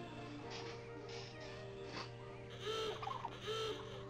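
A chicken in the Disney-Pixar Ratatouille video game gives a few short clucking, gobbling calls toward the end, sounding over a steady hum of game music and background noise.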